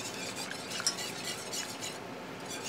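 A feta mixture being whisked in a pot for a keto shepherd's pie, heard as a soft, quick, steady scraping and swishing with a faint clink of the whisk against the metal, fairly quiet throughout.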